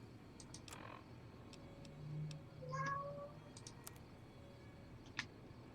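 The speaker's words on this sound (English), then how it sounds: "I have a very talkative cat." A cat meowing, faint and distant behind a low constant hum, with a short rising meow or two in the middle and scattered soft ticking sounds around it.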